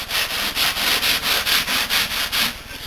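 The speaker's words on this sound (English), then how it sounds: "do a little preliminary sanding" Rhythmic back-and-forth sanding on the wooden front and back body panels of an electric guitar, about ten quick even strokes with a gritty scratching sound, close by and steady.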